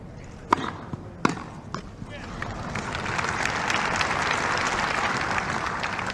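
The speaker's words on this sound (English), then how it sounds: "You can see where the sympathy of the crowd lie, cheering two errors from" Wimbledon crowd at the 1987 fourth-round match between Jimmy Connors and Mikael Pernfors: a couple of sharp ball strikes, then cheering and applause that swells and holds loud and continuous.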